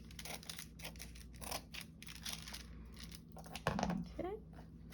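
Scissors trimming a paper page insert, a series of close, soft snipping cuts with rustling paper between them.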